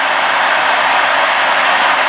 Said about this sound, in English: turn the hair dryer back on, leave it on for about another 10 minutes